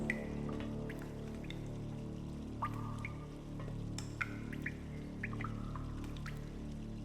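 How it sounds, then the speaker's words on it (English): Rain from the video game Myst, in its Stoneship Age, a steady wash of falling water with scattered drips and drops landing close by over a continuous low rumble of thunder. "That's what that thunder reminds me of."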